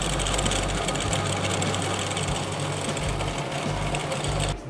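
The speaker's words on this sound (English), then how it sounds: "and then we'll take it to the binder." A binding machine wraps glued bamboo rod strips, producing a close, steady mechanical whir with a regular low thumping pulse and no voices.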